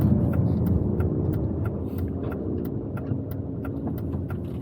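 An Aston Martin DB9 V12 rumbles steadily in heavy traffic around a harbour and city centre, a continuous low engine drone with faint clicks above it and no talking.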